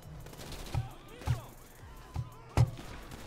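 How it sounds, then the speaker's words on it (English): Enemy gunfire in GTA V during a Life Invader heist mission, four sharp distinct shots spaced unevenly over about three seconds, moderately loud against quiet background noise. "Then they will start shooting."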